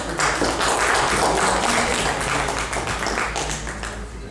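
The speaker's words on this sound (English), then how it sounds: "Please give a big round of applause." An audience applauds at a press release event in Delhi, a dense, continuous wash of clapping at steady volume that fills the room for several seconds without a break.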